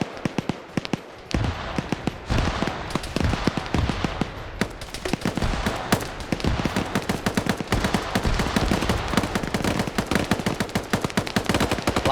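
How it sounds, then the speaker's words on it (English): Grenades from launchers and hand-thrown ones going off in a video game firefight, dense bursts of sharp blasts mixed with rapid gunfire, continuous and loud throughout. "A lot of grenades being heard back here. That's a mix of GLs and handhelds."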